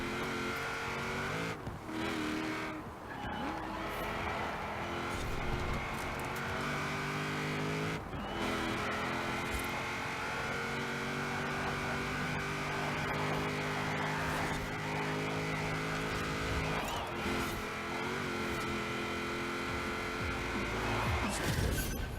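A Rotsun race car laps a circuit in Forza Horizon 4, its engine droning steadily and rising through the gears, with a few sharp shift drops and occasional tire squeal along the way.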